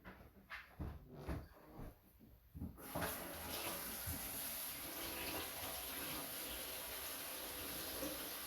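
Water runs into a home-brewing container being filled with roughly two gallons for sanitizing. A few handling knocks come first, then a steady, close rush of pouring water continues to the end.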